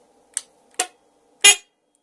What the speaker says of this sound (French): j'ai rajouté aussi un klaxon